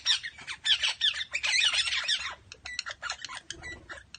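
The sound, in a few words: Australian twenty-eight parrots squawking while being fed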